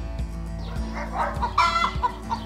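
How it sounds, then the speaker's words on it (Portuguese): A farm hen gives a short run of quick, close clucks over a steady background music track, several sharp calls bunched together in the middle. "Hen."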